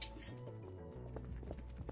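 Footsteps in the horror game Voices of the Void: soft, evenly spaced clopping steps, quiet and somewhat distant, over a low droning ambient tone.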